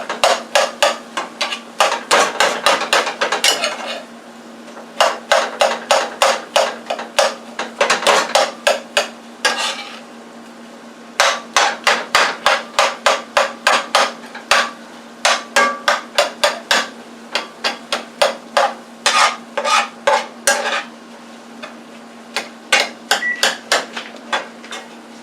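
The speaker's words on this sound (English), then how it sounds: "our ground beef has been cooking maybe 7-8 minutes. I'm just going to break it up," A utensil breaking up and turning ground beef in a pan, heard as rapid, repeated scraping and clanking bursts in rhythmic runs with short pauses, close by, over a faint steady sizzle.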